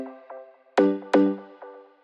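Plucky synth notes from Serum, layered with a marimba sample from a Singular Sound preset pack in the noise oscillator, ring out in a short melodic pattern with bright mallet-like attacks, two notes louder than the rest.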